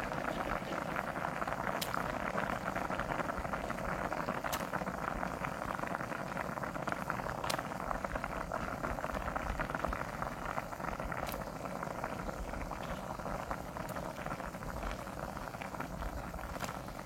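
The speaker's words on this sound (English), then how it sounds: "So now you can see it's boiling" A pot of water at a rolling boil for fish cake bubbles steadily and softly up close, with a few sharp ticks standing out over the continuous churning.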